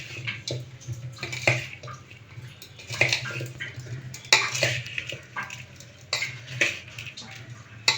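Fenugreek and mango pickle being mixed in a pot, with repeated close scraping and clinking strokes of a spoon against metal in an irregular rhythm, with no voices.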